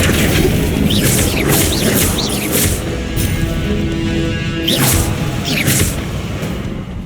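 A Flipendo spell cast in the game Hogwarts Legacy lands among booms and whooshes, several sharp magical impacts and swishing bursts over continuous game noise.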